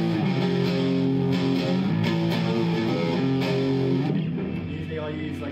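Electric guitar played through a Blues Breaker boost pedal with a fizzy, gritty edge, loud sustained chords ringing with dense harmonics before a quick fade, a voice talking faintly beneath.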